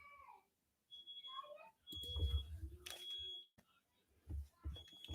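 A smoke detector beeps with high, thin tones at a Disney Lorcana tournament in Melbourne, repeating faintly in the background beneath busy room noise and nearby voices.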